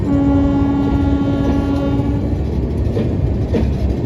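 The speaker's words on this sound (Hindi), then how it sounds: "सूबेदारगंज काठगोदाम तो नहीं आई, लेकिन हमारी संगम एक्सप्रेस होंक कर गई है" The Sangam Express passes close by with a loud sustained horn blast that fades over about two seconds, followed by the heavy continuous rumble and rattle of rolling coaches.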